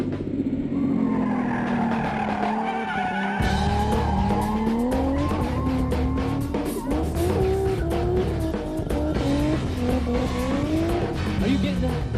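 Sport compact race car at high RPM on a straightaway during a 2002 street car challenge, engine note rising and shifting continuously with tire squeal, loud and close throughout.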